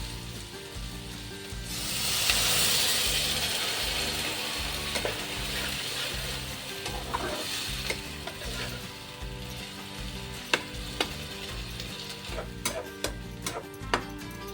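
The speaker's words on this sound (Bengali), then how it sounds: "এই ফোড়নটা যখন দিয়েছি ওই রাই আর উড়ার ডাল কারি পাতা দিলাম" Mustard seeds, urad dal and curry leaves sizzle and crackle as they fry in hot oil for tempering, with a steady hiss, a louder surge early on and scattered sharp pops and stirring clicks later, no talk.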